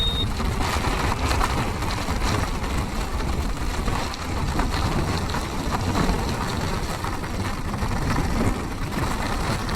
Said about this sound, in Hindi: क्या जोर से लग रही है बारिश।